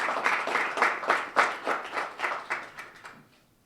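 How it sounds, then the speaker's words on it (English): A short round of applause at a community discussion on affordable housing, starting as a loose patter of many hands, then thinning into a handful of separate claps before fading out. "round of applause for all your hard work"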